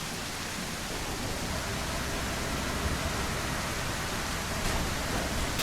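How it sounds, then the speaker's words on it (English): Heavy rain pours steadily in the survival game SurrounDead, a dense, loud, even hiss that holds unchanged for the whole stretch with no voices over it. "Hope this blasted rain stops."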